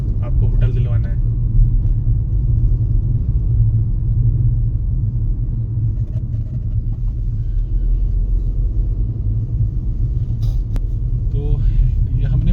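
A red car climbs a hill road near the Shri Kamna Devi Temple in Shimla, its engine a steady low rumble throughout, with faint talk over it.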